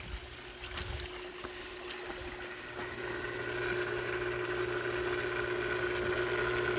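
Cartridge filter pump running on a swimming pool, a low steady hum under a soft broadband wash of moving and trickling water that grows slightly louder, constant and fairly quiet.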